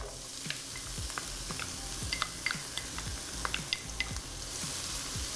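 Chopped onion frying with garlic in a hot pan gives a steady, close sizzle, with scattered small pops and crackles throughout and no speech.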